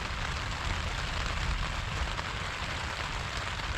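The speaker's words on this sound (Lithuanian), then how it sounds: "Nors rodo, kad visą dieną lyja." Steady rain falls during a stormy day outdoors, a dense, even hiss of drops drumming on a nearby surface with no breaks.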